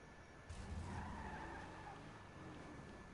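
Car engine and tire skid in the video game GTA V, a brief screech of tires over a rough, droning engine, rising loud about halfway in and then holding steady to the end.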